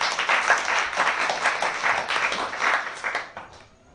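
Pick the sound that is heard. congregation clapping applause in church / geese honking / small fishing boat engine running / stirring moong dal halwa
congregation clapping applause in church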